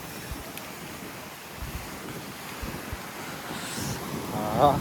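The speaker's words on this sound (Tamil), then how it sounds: "தண்ணி சூப்பராக அடிக்குதுங்க." Steady roar of surf with repeated low wave surges building toward the end, wind buffeting the microphone throughout, on the shore at Pondicherry.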